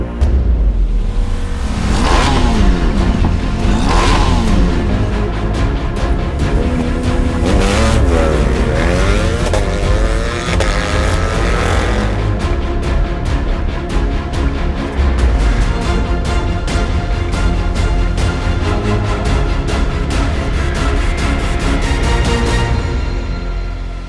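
A BMW Motorrad drag-racing prototype motorcycle runs at a Sultans of Sprint event, its loud engine revving and climbing through repeated rising sweeps, pulling through gears, and roaring steadily for the whole stretch.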